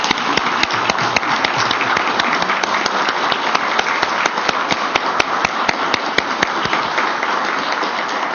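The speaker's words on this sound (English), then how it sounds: "we'd like to give you a round of applause for the great work" A tribal council meeting audience applauding staff of the ICW program, a steady round of crisp hand clapping from a modest crowd lasting several seconds without talk.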